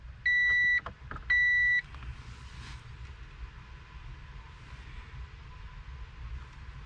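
Two electronic chime beeps sound in quick succession as a vehicle's ignition is switched on with the key, followed by a low steady idle-like hum and faint background noise.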